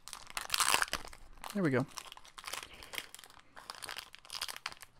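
Foil Pokémon card pack wrappers from a Detective Pikachu Mewtwo-GX case file crinkle and tear open in several bursts. A person talks intermittently over the crackling.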